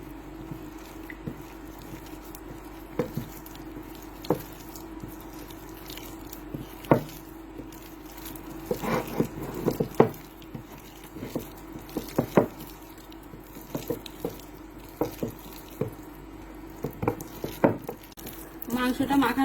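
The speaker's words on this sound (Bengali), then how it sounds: "এবার ভালো করে মেখে নেব।" Chicken meat being kneaded by hand with a raw egg for pakora, giving soft, wet squishing and slapping sounds in an irregular rhythm, close and fairly quiet, with occasional sharper knocks against the bowl.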